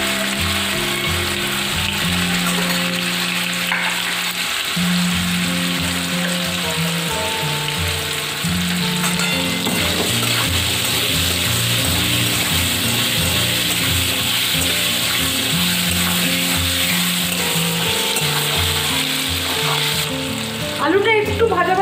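Potatoes with salt and turmeric fry in hot oil with a steady, loud, continuous sizzle, joined by occasional stirring scrapes and a clatter near the end.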